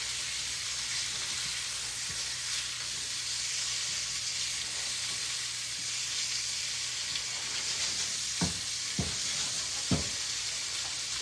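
Onions frying in olive oil in a pan give a steady, even sizzle and hiss throughout, with a few sharp clicks and pops near the end.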